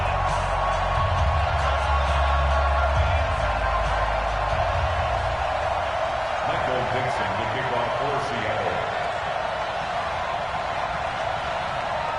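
Stadium crowd roar in an EA Sports NFL video game with the Seattle Seahawks playing the Dallas Cowboys, a loud continuous wash of crowd noise running through the whole stretch.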